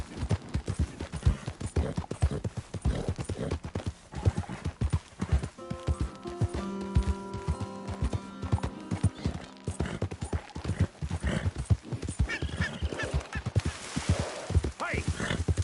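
A horse in the video game Red Dead Redemption 2 gallops in a fast, steady run of hoofbeats, with a whinny partway through and a faint voice calling at moments.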